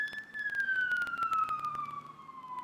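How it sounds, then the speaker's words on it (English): A siren wails with a slowly falling tone, fairly loud and sustained, accompanied by a rapid pulsing rattle throughout. "Fucking sirens."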